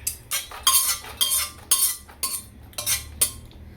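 Roasted pumpkin seeds are scooped out of a pan, a metal spoon scraping and clinking against it in about seven quick, evenly spaced bursts, close and fairly loud.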